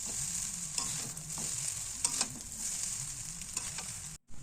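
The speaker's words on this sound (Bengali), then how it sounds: "আর চাউমিনগুলো দিয়ে ভালোভাবে ভেজে নেব।" Chow mein frying in a pan and being stirred: a constant hissing sizzle with soft scrapes and a few light clicks of the spatula, fairly quiet and close, ending in a brief cutout, no voices.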